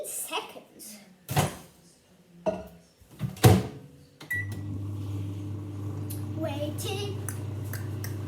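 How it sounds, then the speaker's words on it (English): A microwave oven heating slime starts up after some clunks and door-like knocks, then settles into a steady, close hum that runs to the end, with a faint beep and light handling noises over it. "you're going to add it in the microwave for about 15 seconds"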